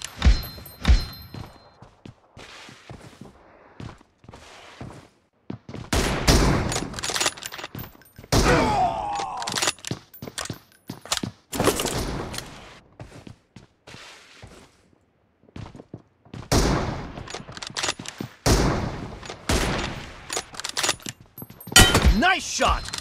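Shooter video game gunfire from an M24 sniper rifle, sharp isolated cracks and thuds scattered through a busy match, with a player talking over the action and bursts of background game noise.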